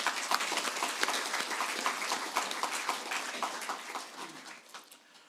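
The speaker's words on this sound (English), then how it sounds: "let's give them all a warm round of applause" A crowd at a Royal College Old Boys Association of North America gathering claps warmly, a dense patter of many hands that holds steady and then gradually fades toward the end.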